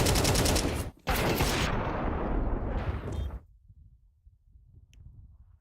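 Counter-Strike gunfire in a professional esports match, a dense burst of loud rapid shots and blasts that drops briefly, resumes, then cuts away to near silence with faint low rumbling.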